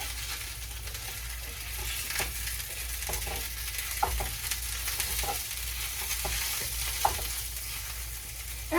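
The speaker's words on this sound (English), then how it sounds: "It'll take probably about maybe 8-9 minutes to fry this up." Crumbled Italian sausage fries in a pan with a soft, continuous sizzle, broken by occasional spoon clinks and scrapes as it is stirred.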